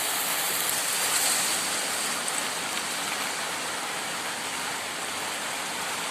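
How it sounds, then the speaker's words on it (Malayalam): Water pouring steadily into a pan of Kerala-style prawn masala, a continuous broad rushing pour that stays loud and even throughout with no talk. "നമുക്കിനി വെള്ളം ഒഴിച്ചു കൊടുക്കാം"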